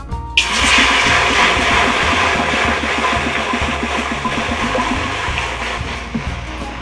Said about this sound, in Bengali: তাই কড়াতে আমি প্রথমে জল দিয়ে দিচ্ছি